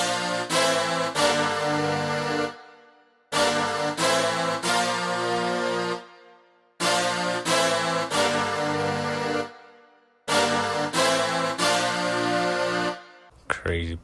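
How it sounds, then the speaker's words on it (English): A produced hip-hop beat of layered drums, brass and keys plays loud in four repeating phrases, each cutting to near silence before the next begins. "I layered different types of drums,"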